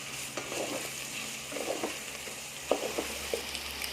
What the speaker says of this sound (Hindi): अब इसको 2 से 3 मिनट के लिए इसकी भुनाई करेंगे।